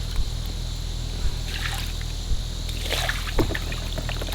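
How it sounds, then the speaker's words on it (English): Excess water being poured out of a turtle tank gives a few soft splashes and trickles over a steady low hum, faint and close, with no talking. "So we're gonna pour a little bit out."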